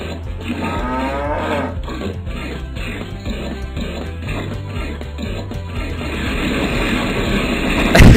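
Cartoon cow mooing in a flash cow-milking browser game, repeated low lowing calls over a steady busy game backdrop with music, fairly loud and continuous, no talking.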